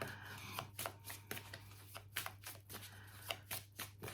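Christ consciousness oracle cards being shuffled by hand, a close, steady patter of soft riffling flicks repeating throughout against a low hum, with no talk.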